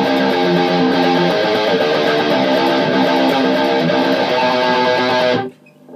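A heavy, distorted electric guitar riff in drop C tuning, the intro of a song, plays loud and dense for several seconds, then cuts off abruptly into near silence.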